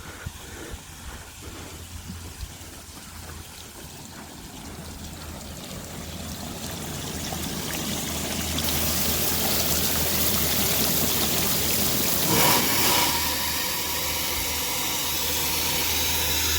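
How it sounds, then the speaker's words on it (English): High-pressure water sprays and hisses from a PVC drip irrigation line in a raised garden bed, a steady rushing noise that builds louder midway and stays strong to the end, with no talking. "Well, I can see it's got way too much water. Way too much water pressure."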